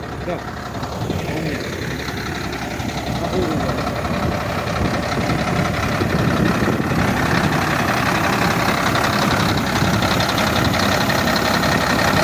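A heavy John Deere 6610 tractor engine rumbles continuously, a low steady drone with some mechanical clatter, while people talk over it.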